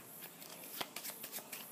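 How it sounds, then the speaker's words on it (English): Playing cards being shuffled by hand, a quick close riffle of soft flutters and snaps lasting under two seconds, quiet and with no talk. "Now I'm going to shuffle them."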